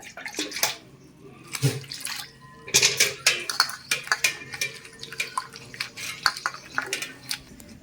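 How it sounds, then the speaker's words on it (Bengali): Chopped pumpkin leaves being washed by hand in water, giving splashing, sloshing and clattering bursts against a container, with drips between, close and fairly loud, with no talking. "পাতাগুলো ভালো করে আমি কেটে নিয়েছি এরপর জল দিয়ে ভালো করে ধুয়ে নেব দুই থেকে তিনবার"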